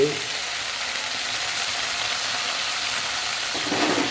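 Sesame seeds, mustard seeds and black gram lentils sizzle steadily in hot oil in a clay pot, a close, constant crackling hiss throughout.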